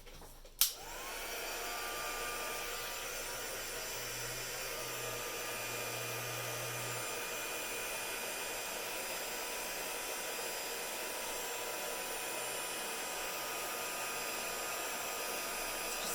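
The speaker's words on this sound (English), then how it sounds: "I'm going to use my heat gun, so it might be a little bit noisy." Heat gun blowing hot air over embossing powder on a crafted page embellishment, a steady loud whooshing hiss that starts with a click and runs unbroken throughout, with no talking.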